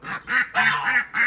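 Ducks quack in a run of about five loud, close nasal calls in quick succession in a backyard garden kept with geese and chickens.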